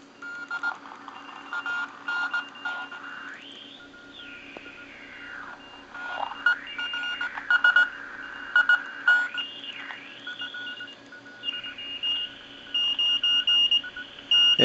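Radio station tones tuned on a Heathkit AR-3 receiver with a QF-1 Q multiplier: steady and sweeping whistling tones that shift pitch up and down, with choppy beeping bursts and static underneath.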